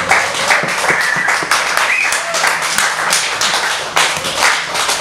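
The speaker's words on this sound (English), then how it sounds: "Gives me great pleasure to introduce the microphone with a big round of applause" An audience claps steadily and loudly for a performer at a live spoken-word event, a dense continuous applause with scattered voices underneath.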